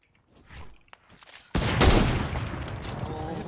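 A loud sniper rifle shot rings out in a zombie video game, a sudden sharp blast that cuts in after a quieter stretch of faint clicks and movement, then trails off in a long decaying rumble.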